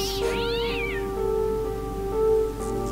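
A cat in the video game Fran Bow lets out a loud drawn-out meow early on, followed by quieter mewing over a steady humming game background.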